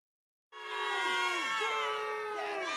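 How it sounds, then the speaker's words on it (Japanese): A crowd boos in the Mitoza horror video game, starting abruptly after a moment of silence and holding as a sustained chorus of falling, wavering voices. "ブーイングの嵐だ。"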